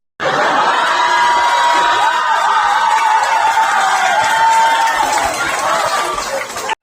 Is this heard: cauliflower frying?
no